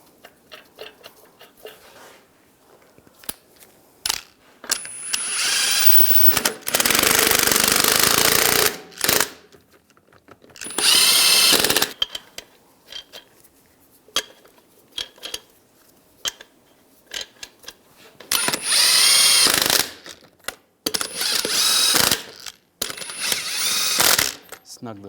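Impact wrench zipping lug nuts onto a 2011-2018 Ram 1500 wheel, heard as several loud, sustained bursts separated by pauses and ratcheting clicks.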